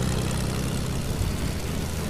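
A propeller airplane drones overhead in a video game, a steady, dense low engine roar that stays loud and unbroken throughout.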